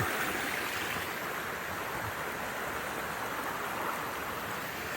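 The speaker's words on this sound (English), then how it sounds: "we're going to cross the little creek here" A small creek flows steadily along a trail near an outdoor center, a continuous broadband wash of running water with no clear breaks, moderately close and without voices.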